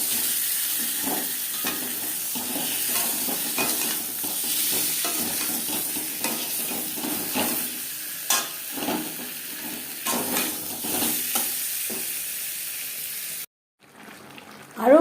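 Peeled, boiled potato chunks fry in a pan with salt and turmeric for a chicken curry, making a continuous close sizzle with scraping stir strokes before a sudden stop near the end.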